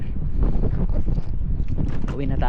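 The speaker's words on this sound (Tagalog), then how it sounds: "Lakas ng hangin." Strong wind in New Zealand buffets the microphone with a constant low roaring rumble, and a muffled voice seems to come through underneath.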